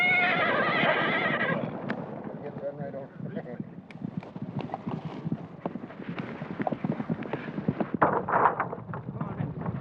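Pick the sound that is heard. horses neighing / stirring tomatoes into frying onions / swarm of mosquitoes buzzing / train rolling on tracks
horses neighing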